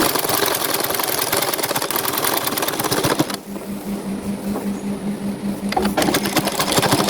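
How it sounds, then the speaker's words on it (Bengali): A sewing machine stitches a dress sleeve with a loud, rapid mechanical chatter, pauses for a couple of seconds while a low hum continues, then starts again briefly. "সুন্দরভাবে বসিয়ে আরেকটি পাটও আমি সেলাই দিয়ে নেব।"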